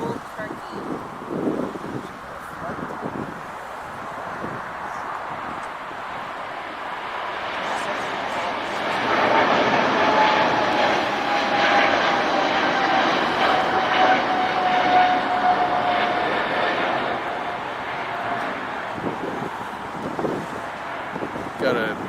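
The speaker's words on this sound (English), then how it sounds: "This is Turkish Airlines on departure to Istanbul, Turkey." Turkish Airlines jet departing toward Istanbul, Turkey, a steady engine roar swelling to a peak midway and holding, with wind noise across the mic.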